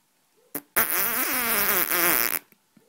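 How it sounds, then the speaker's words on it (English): A single long, loud fart sound effect for a dog, opening with a short pop and then a sustained buzzy, wavering blast of nearly two seconds before cutting off. "That dog farts morning, noon and night"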